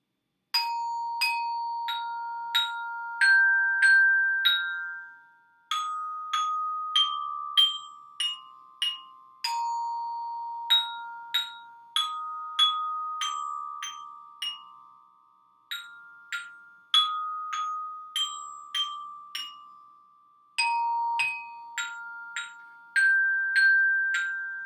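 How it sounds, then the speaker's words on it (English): A glockenspiel, an at-home practice bell kit for school band, is struck note by note in a bright, ringing melody with steady rhythm, each metallic tone decaying briefly before the next; close and clear, no talking. "The at-home practice bell kit or glockenspiel is going to sound something like"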